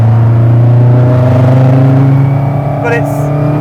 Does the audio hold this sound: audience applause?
no